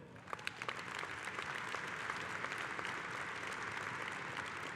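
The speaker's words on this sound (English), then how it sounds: "Let's give our retirees and our MC leadership some applause." Sustained audience applause at a union convention honoring retirees and leadership, a steady dense wash of many hands clapping with a few sharper claps standing out, continuing evenly throughout.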